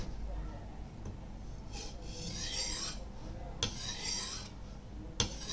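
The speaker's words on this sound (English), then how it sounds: "I will do one last grind before giving it a final finish." A Nepalese khukuri blade being sharpened on a grinder gives three or four faint rasping sweeps, each a short scraping pass separated by brief pauses, all at low volume.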